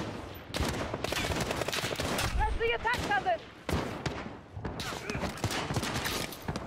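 Gunfire rattles in the Call of Duty Modern Warfare campaign as repeated bursts of shots and explosive impacts, with voices talking over the battle throughout.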